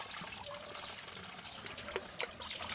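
A mix of water with coconut oil and kaffir lime oil is poured into a two-litre sprayer tank, making a faint close trickle and splash with a few brief gurgles and no talk.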